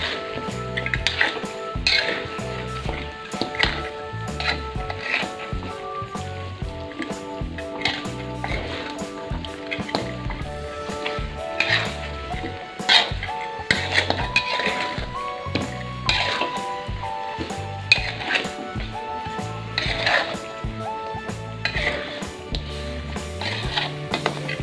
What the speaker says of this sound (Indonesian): Aduk semuanya sampai tercampur rata.